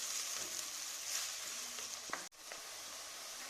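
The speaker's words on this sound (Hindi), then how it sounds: "प्याज डालने लगे हम, तो गोल्डन हल्का हो जाए।" Sliced onions fry in hot oil in a pan for a fish curry masala, giving a quiet, steady sizzle with a faint clink partway through and no talking.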